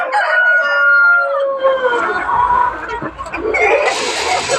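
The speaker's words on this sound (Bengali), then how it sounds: "এখন মুরগিকে মানে খাবার দেওয়া হবে আপনারা দেখবেন যে কি পরিমাণ ভিড় করে এখানে" Tiger chickens crowd together at feeding time on a poultry farm, with a rooster crowing loudly up close and hens clucking and squawking in a busy, overlapping chorus.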